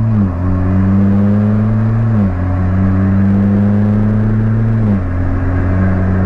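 A Mitsubishi Lancer Evo X with SST transmission pulls away and shifts through its low gears, the steady engine drone dropping in pitch at two distinct gear changes before rising again, loud and close with no talk.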